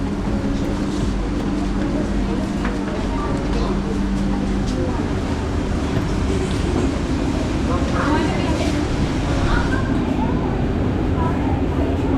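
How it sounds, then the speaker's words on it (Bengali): Riding a fully air-conditioned metro train toward Kochi: a steady, loud low rumble and hum of the carriage runs throughout, with people talking over it. "full AC metro"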